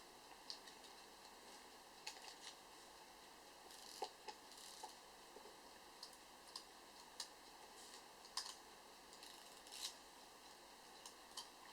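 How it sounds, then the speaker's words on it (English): A Helios-44M-4 camera lens being worked on at a bench gives off faint, irregular tiny clicks and ticks from its bearing and mechanism, scattered over a quiet background. "Where's that lovely clicking come from?"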